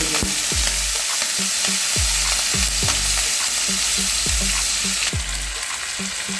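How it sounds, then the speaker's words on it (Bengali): Small shrimp coated with salt and turmeric fry in hot oil, a loud, continuous close sizzle with steady bubbling hiss throughout, no voices. "এখন বন্ধুরা আমার চিংড়িগুলো প্রায় ভাজা হয়ে গেছে"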